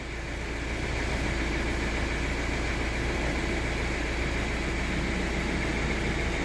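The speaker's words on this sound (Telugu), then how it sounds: "బండి స్టార్ట్ చేయి ఓకే స్టార్ట్ చేశారు." A car engine idles steadily after being started during an automobile electrical diagnostic session, a constant low rumble with broadband hum running unbroken and at even loudness throughout.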